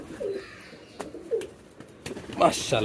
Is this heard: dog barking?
no